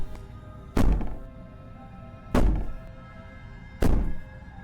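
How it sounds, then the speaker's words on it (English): Three heavy, booming thuds of banging on a door in the video game Slay the Princess, evenly spaced about one and a half seconds apart, loud and close with a short rumbling decay after each blow. "Maybe the banging and wailing will stop if you just don't pay attention to it."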